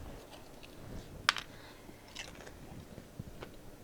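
A bite into a crunchy homemade mini taco bowl made with taco seasoning gives one sharp, close crunch, followed by a few fainter chewing crackles against quiet room noise.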